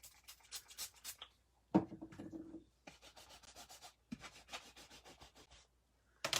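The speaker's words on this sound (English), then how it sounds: "So let me wash my stamp that was on the pad." A rubber stamp is scrubbed clean on a stamp cleaning pad in close, quiet bursts of brisk rubbing strokes, separated by short pauses and a soft knock.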